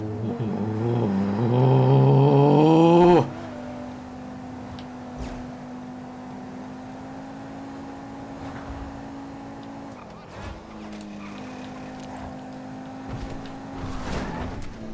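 A sports car engine in GTA 5 screams up to high revs for a few seconds, then drops to a steady lower drone that persists, with brief shifts in tone.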